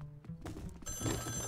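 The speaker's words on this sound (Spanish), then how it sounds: "¡Oye! ¡Teléfono!" A telephone rings in the Luigi's Mansion 3 video game, a short electronic bell trill that swells near the end over the game's background sound, with no one talking.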